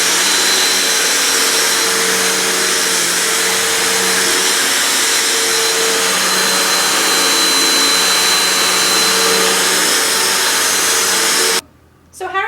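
A vacuum cleaner roars steadily and loudly with a constant high whine, cutting off abruptly near the end.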